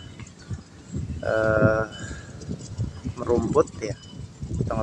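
Goats grazing out in a rice field after the harvest, with a couple of bleats rising over a steady outdoor rustle and low background noise, fairly distant.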